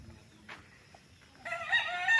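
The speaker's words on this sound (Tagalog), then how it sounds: "Daming manok oh. Mga manok panabong." Fighting roosters crow in the distance at a farm in Pagsanjan, Laguna, a drawn-out cock-a-doodle-doo rising near the end over faint farmyard background noise.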